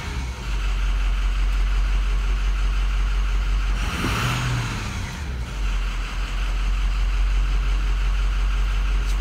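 Ford 6.0 Powerstroke diesel idling steadily in a Super Duty bucket truck, a close, constant low rumble with a brief surge around the middle before settling back to idle.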